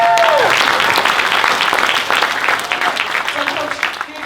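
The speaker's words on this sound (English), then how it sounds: "you can applaud, please." An audience at an after-show discussion about baseball applauds loudly and densely throughout, a continuous wash of many hands clapping that thins slightly toward the end, with a brief tonal squeal at the start.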